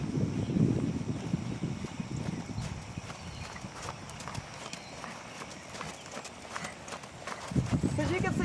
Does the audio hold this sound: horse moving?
yes